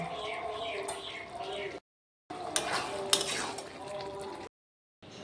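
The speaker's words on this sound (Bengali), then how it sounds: "এবার ভেজে রাখা পনিরগুলো দিয়ে দিলাম। ওটা কারি পাতা দিয়ে দিলাম।" Fried paneer cubes and curry leaves tipped into a pan for matar paneer, with utensil scrapes and clatter against the pan over a soft sizzle, interrupted by brief silent gaps.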